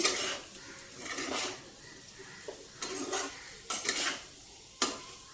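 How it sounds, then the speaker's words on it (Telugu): Potatoes frying in a pan for a Telugu potato fry, with several sharp scraping and stirring clatters against the pan over a soft background sizzle. "ఇంకా కొంచెం వేగాలండి"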